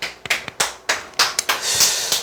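Several sharp, irregular hand claps ring out close by, building into a short burst of clapping before a final clap.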